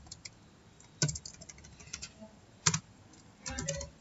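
A computer keyboard clatters as a web address is typed, with scattered keystrokes and a few denser bursts of quick presses, close and fairly soft with no voices.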